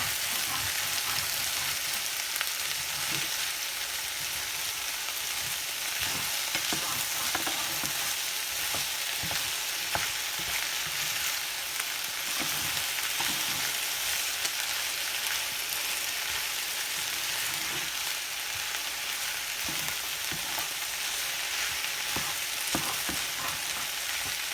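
Okra and shrimp being smothered in a pot give a constant close sizzle, with a spoon repeatedly stirring and scraping the bottom in irregular knocks and scrapes over about twenty-five seconds, no talk.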